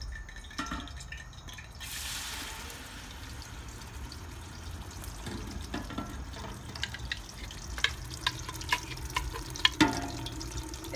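A blended curry paste hits hot oil in a pan for curry mee and sautés with soft sizzling and scattered crackles and pops that grow busier toward the end.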